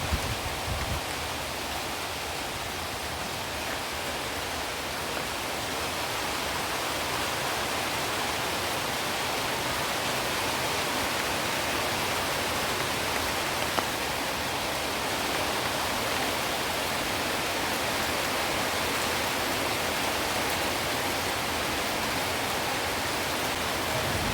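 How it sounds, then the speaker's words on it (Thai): Steady rain falls outdoors in a garden with ornamental plants and a lime tree, a dense even hiss of drops that holds at a constant level throughout, no voices. "ฟังเสียงฝนเอานะคะ"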